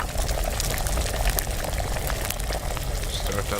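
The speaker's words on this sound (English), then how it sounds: "Get it back up to boiling." A potion bubbles at a steady boil in the Kingdom Come Deliverance video game, a dense continuous roil of liquid that stays loud and even throughout.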